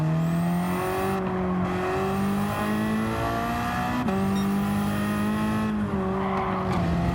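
Loud, continuous engine drone of a Ford Focus race car in a racing video game, steadily climbing and dropping in pitch through gear changes and braking, with faint tire squeal underneath and no talking.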